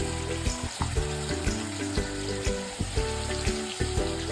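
Mustard seeds, cumin and green chillies temper in hot oil with a loud, steady sizzle and dense crackling and spitting throughout, no voices.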